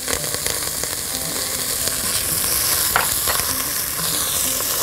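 Celery and fresh greens frying in a pot, a continuous bright sizzle with stirring scrapes and a sharp clink near the middle, close and alone without speech.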